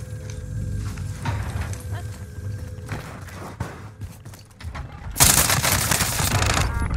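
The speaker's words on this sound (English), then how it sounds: "Who are you shooting at?" Gunfire in a shooter video game comes in rapid bursts of shots over a busy game background, growing louder and denser near the end.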